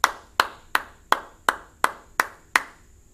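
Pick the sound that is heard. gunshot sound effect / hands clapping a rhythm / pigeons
hands clapping a rhythm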